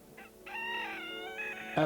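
Chickens at first morning light, dust-bathing, give a short run of close, clear fowl calls with a crowing, clucking quality, holding steady and then ending in a louder burst.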